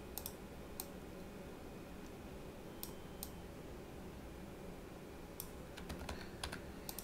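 Computer keyboard typing and mouse clicking during Photoshop work, light scattered clicks in small bursts over a steady faint background hum, close and quiet, with no voices.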